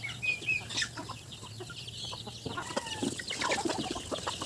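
Layer hens in a steel-mesh cage cluck and squawk in scattered bursts with some wing flapping, fairly close, over a steady low background hum.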